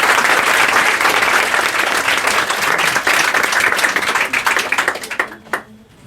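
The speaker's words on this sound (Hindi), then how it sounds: "ताली बजाइए।" An audience claps loudly for a student at a ceremony honouring pupils who passed their 10th board exams, dense continuous applause that thins into a few scattered claps and fades out near the end.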